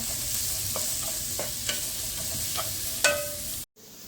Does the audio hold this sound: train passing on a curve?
no